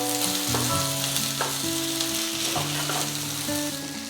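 Tindora and sliced potato fry and sizzle steadily in a pan while a spoon stirs through them, the dense frying hiss close and continuous with no voices.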